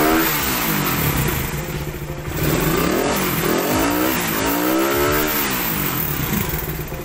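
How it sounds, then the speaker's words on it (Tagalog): Honda Raider 150 motorcycle with a faulty carburetor diaphragm, engine revved at full throttle with slow, sluggish rises and falls in pitch, loud and close throughout. "Sagad-sagad na yung throttle ko, ang ganyan na matagal siyang umangat."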